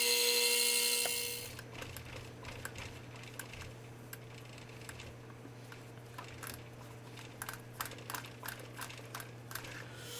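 A lathe faces and drills a half-inch aluminum rod, giving a steady motor hum under scattered clicks and light ticking cutting noises after a loud hiss at the start, close and with no talking.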